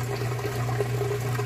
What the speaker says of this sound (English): you can hear it draining out that water.